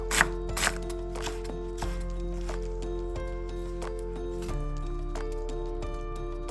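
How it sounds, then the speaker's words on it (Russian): A medium head of lettuce, romaine or iceberg, being sliced with a knife on a board, with a series of crisp, close cutting thuds at an irregular, fairly quick pace. "Нарезаем 1 средний салат,"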